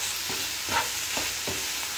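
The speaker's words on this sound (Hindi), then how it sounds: "ये मैंने अच्छी तरह भून लिया है" Ingredients for a Turkish soup roast in a pan, a steady hiss of frying under a few quick stirring scrapes, close and alone.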